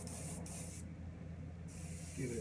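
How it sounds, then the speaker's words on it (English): A short, close burst of thin paint spraying, hissing steadily from a nozzle, broken by a quick pause, then fading into quiet. "give it a test spray"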